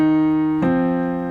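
Two sustained piano chords played slowly from the fifth and sixth measures of a song, the first ringing before a second chord is struck, close and clear.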